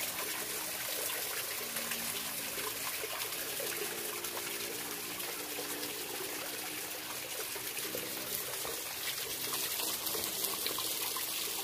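Clean water flows steadily in an Indonesian village in Majalengka during an evening walk, a constant, even rush of moving water with no talking over it.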